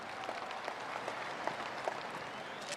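A crowd at a NasDem party rally claps for Democratic Party chairman Agus Harimurti Yudhoyono. The applause is faint and distant, a steady patter of many hands that goes on for the whole moment without pause.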